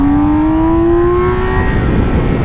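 A BMW motorcycle engine on a race track holds a loud, steady high-pitched whine as it accelerates, its tone rising gradually and continuously with no gaps.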